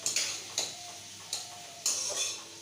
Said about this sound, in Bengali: তার জন্য আমি পেঁয়াজটা কড়ায় দিয়েছি, কালো জিরে ফোড়ন দিয়ে পেঁয়াজটা একটু ভেজে